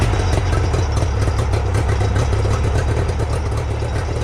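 A 30-year-old Nissan Tohatsu NS70 two-stroke outboard motor running after a fuel pump replacement, a loud, steady, rough buzzing drone with fast rhythmic pulsing, close and continuous, no voices.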